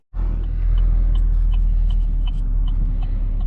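A Camaro LT1 V8 engine starts up abruptly from silence and settles into a loud, close, steady rumbling idle as the car pulls away.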